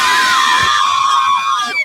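A crowd of schoolgirls screaming and cheering with joy, loud, shrill and close, their voices overlapping in a sustained burst that trails off at the end.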